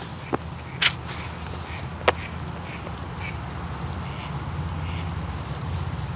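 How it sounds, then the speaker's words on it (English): Ducks quacking outdoors in a few scattered, brief calls over a steady low background hum, with the sharpest quacks near the start and a quieter one midway. "Y'all hear the ducks?"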